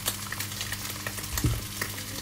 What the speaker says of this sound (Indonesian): Goreng lagi.